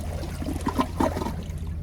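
A 2014 Sterling Windham elongated toilet flushing a large rag, with a gurgling rush of water and trickling that swells, then eases off as the flapper closes early before siphoning.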